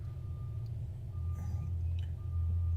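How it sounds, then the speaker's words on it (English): Tow truck backing up outside an office, a thin repeating reverse beep sounding at intervals over a steady low engine rumble, fairly distant and moderate in level. "The beeping's happening. Our tow truck just got done doing a tow"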